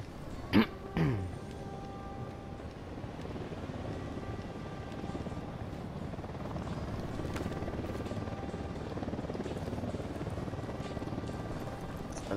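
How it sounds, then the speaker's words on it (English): A helicopter in the video game Ghost Recon Wildlands drones with a steady rotor rumble that holds throughout, after a couple of sharp knocks near the start. "Chopper's approaching."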